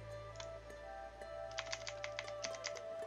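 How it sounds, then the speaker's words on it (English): Computer keyboard typing in bursts of quick, close clicks over a steady low hum, with sparse strokes at first and a denser flurry toward the end; no one talks. "I'm typing up the Eagles standings here"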